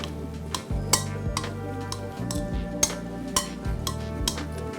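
Cooked pasta is tossed with tomato bruschetta in a bowl, giving a steady soft mixing rustle broken by several sharp utensil clinks against the bowl, close and moderately loud with no talking.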